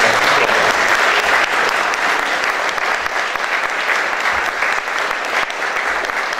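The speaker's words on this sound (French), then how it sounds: "je pense qu'on peut encore les applaudir très très fort" Audience applause for regional beauty pageant candidates at their official press presentation; sustained, dense clapping from a sizable crowd, steady and fairly loud, with no voices on top.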